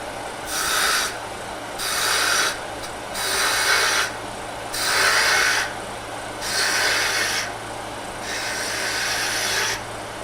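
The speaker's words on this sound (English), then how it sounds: "Because it's a cove, I like getting it off with the bowl gouge." Bowl gouge with a long bevel cutting a cove on a wood lathe while turning a finial ornament, giving a steady raspy shearing hiss in about six even passes, each cut lasting roughly a second with brief pauses and a constant low motor hum beneath.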